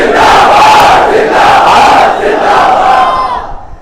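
A large crowd at a religious gathering shouting a slogan response in unison, a loud massed roar of voices that swells, holds, then fades out at the end.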